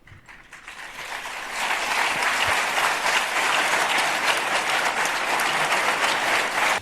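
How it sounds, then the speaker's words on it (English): An audience bursts into loud applause that swells within a couple of seconds and holds steady, a dense wash of clapping from a large crowd. "the audience responded with rapturous applause"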